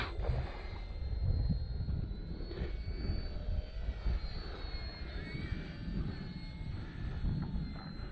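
Engine of an Arrows Bearcat airplane, a continuous droning roar with low rumble that swells and eases slightly, fairly close, with no talking.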